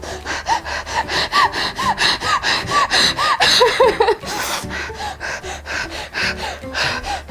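Close, heavy breathing through a dog fine-dust mask in a quick, steady rhythm of forceful inhales and exhales, like panting, with a faint squeaky whistle on some breaths.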